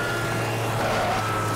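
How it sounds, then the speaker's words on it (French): A rally car engine in WRC 3 drones steadily, a continuous loud mechanical whine and hum with no pauses or talk. "Ça fait un drôle de bruit. C'est entre l'aspirateur et le réacteur d'avion."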